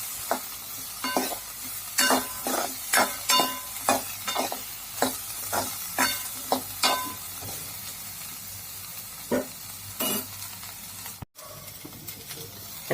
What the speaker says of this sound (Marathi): भाज्या आपण कढईत टाकलेल्या आहेत